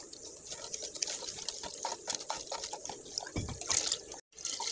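Sattu powder being stirred into water in a bucket, giving steady close sloshing with a run of small splashy, clicking stirs and one brief pause near the end, with no talking.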